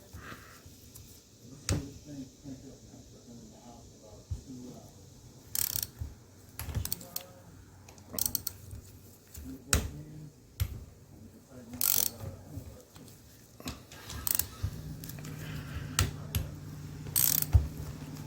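A hand ratchet clicks in short bursts while nuts come off a GY6 139QMB scooter engine during a big bore kit install, with close metallic clanks and tool knocks between the ratcheting runs.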